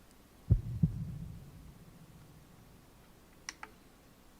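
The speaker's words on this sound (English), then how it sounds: "I love the heartbeat sound." A heartbeat sound effect plays as two close, low thumps in quick succession, fading into a soft hum, followed a few seconds later by faint clicking ticks.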